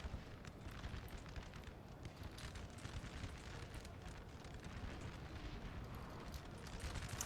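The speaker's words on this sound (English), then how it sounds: "This line infantry is just getting shot to pieces by artillery." In Napoleon: Total War multiplayer, artillery batteries pound line infantry, producing a continuous dense rumble of booms and distant cannon fire layered into a steady, muffled battle roar with no clear talk.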